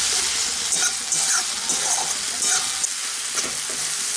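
Spice masala with a few grains of sugar fries dry in a pan for an egg omelette curry, making a dense, continuous sizzle with repeated scraping stirs that stays loud and close throughout.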